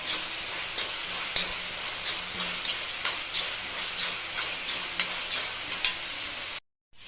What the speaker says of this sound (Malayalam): നല്ലോണം വഴറ്റിയെടുക്കാം.